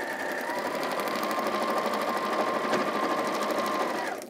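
A sewing machine stitching fabric runs steadily at close range, a fast even mechanical patter that holds for several seconds before cutting off abruptly at the end.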